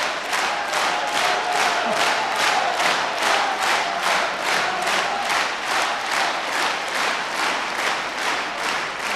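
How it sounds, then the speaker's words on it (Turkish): Sustained audience applause with scattered cheering fills a hall after a performer at a mugham competition, dense rhythmic clapping that stays loud and steady throughout with no talk over it. "Çok sağ olun alkışlarınız için."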